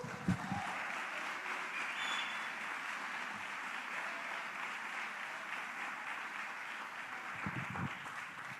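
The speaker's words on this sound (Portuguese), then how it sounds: "Se você crê, aplaude o Senhor" Church congregation applauding during a worship service, a sustained, fairly quiet patter of many hands held at an even level throughout, with faint low thuds near the start and end.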